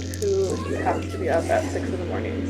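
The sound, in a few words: pet cat meowing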